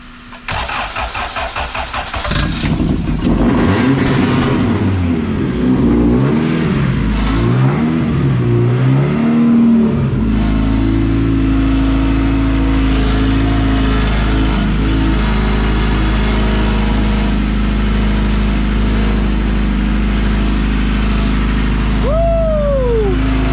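An all-motor VW EF hatch engine cranks for a couple of seconds, catches, revs loudly up and down several times, then settles into a steady, close idle.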